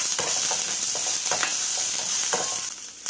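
Mustard seeds, urad dal, curry leaves, chili and onion fry in hot oil, giving a loud, continuous close-up sizzle with occasional stirring scrapes and pops, with no talk.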